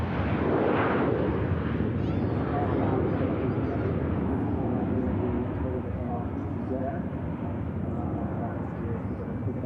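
A British Airways jet takes off from Manchester Airport, its broad, loud engine roar running steadily from start to end, with a voice talking over it.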